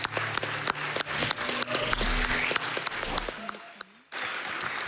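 Scattered clapping from a small audience at a charity speedrunning event, with intermittent sharp claps and background tones, briefly dropping out near the end.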